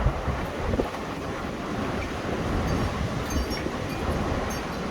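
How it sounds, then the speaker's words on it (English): Strong wind gusts roar across an outdoor spot in the Ohio Valley during a storm, a loud broadband rushing with heavy microphone buffeting that stays sustained throughout. "these wind gusts are a little bit insane today."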